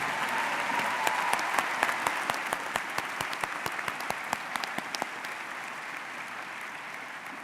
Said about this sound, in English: Please give a round of applause to the doctoral degree recipients.